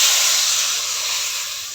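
Water hits a hot pan of spiced fish curry with broccoli, a loud steamy sizzle and hiss that starts at full strength and slowly eases over a couple of seconds.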